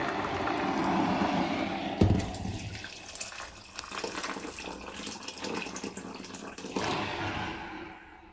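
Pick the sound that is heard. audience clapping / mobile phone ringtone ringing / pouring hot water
pouring hot water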